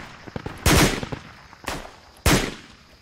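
Gunfire in the tactical shooter game Project Reality: a few loud, sharp rifle shots spaced about a second apart, each with a booming echoing tail, over quiet ambience.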